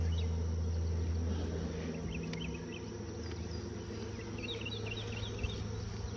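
Honey bees buzz continuously around a Flow Hive beehive, a close droning hum with individual bees whining past, and faint birdsong in the background.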